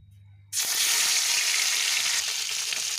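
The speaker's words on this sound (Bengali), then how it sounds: "এবার আমি মাছগুলো ভেজে নেব।" Small mourala fish coated in salt and turmeric drop into hot oil in a wok, bursting into a loud sizzle after a short quiet moment, then settling into a steady crackling fry.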